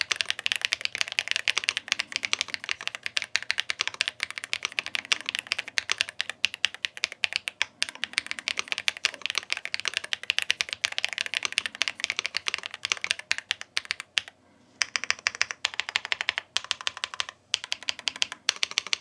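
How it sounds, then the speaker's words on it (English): Continuous typing on Ajazz mechanical keyboards, rapid clicky keystrokes close to the mic, with one brief pause before the clatter resumes. "you heard the sound of these two Ajazz mechanical keyboards"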